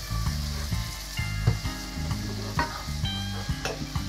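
Diced onions sizzle and crackle in hot oil while being stirred, with steady frying noise and repeated scraping motions in the pan.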